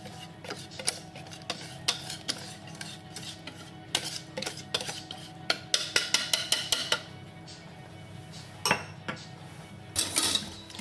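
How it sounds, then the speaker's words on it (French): A whisk or spoon clinks against a metal pot while boiled milk is mixed into a chocolate pastry cream, giving irregular metallic taps that speed into a quick run of clinks, close and fairly quiet. "On met un peu de lait bouilli dans notre préparation pour pouvoir la mélanger"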